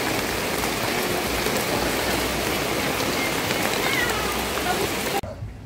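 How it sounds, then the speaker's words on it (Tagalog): Heavy rain pours steadily on a boat near the sea, a dense loud hiss of drops that cuts off abruptly near the end. "Lakas ng ulan."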